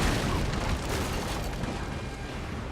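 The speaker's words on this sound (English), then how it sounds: "it's about to get destroyed there with a good volley from the Vengeance" Cannon volley explosions in the video game Napoleon Total War, a dense rumbling barrage of booms that fills the scene and eases slightly toward the end, loud and without speech.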